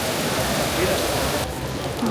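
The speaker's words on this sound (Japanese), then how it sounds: "でさっきより雨がすごくなってる。" Heavy rain falls steadily on a Rome street beside a tower, a dense continuous hiss that stays loud throughout with no gaps.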